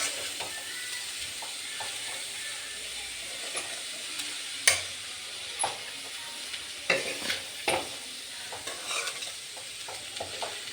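A vegetable palya being stirred in a hot pan in a village kitchen, with a spatula scraping and knocking in irregular bursts over a continuous gentle sizzle, close and without voices.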